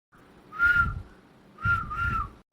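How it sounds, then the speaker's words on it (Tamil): Someone whistling at people, two loud, sharp two-toned whistles, each swooping upward and lasting about half a second, separated by a short pause, with no talk alongside. "யாரு நம்மள பார்த்து விசில் அடிக்கிறாங்க"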